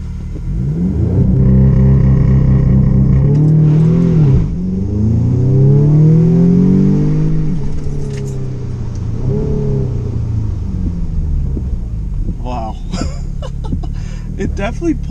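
An Audi S3 turbo engine fitted with a CTS turbo intake and turbo inlet revs hard in rising, falling sweeps, loud and close, with turbo whooshes, then settles to a lower drone as people talk.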